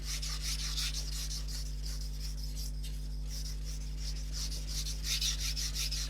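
Hot steel is being sharpened on a coarse NSK Oboro whetstone, giving a steady, close abrasive rasp with rhythmic rubbing strokes that continue evenly throughout.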